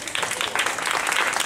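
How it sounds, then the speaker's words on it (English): A crowd applauding steadily, a dense wash of many hands clapping at a moderate distance. "give you a round of applause"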